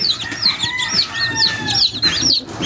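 Newly hatched chicks and chickens at a poultry brood: rapid, high, piercing peeps repeating close by, over softer low clucking from the hens.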